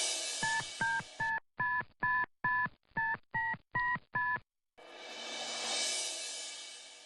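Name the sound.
phone number being dialed, keypad tones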